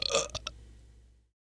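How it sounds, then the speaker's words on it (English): A short, weak burp, one brief throaty eruption with a couple of small follow-on pulses, fading quickly to silence. "That was a weak burp."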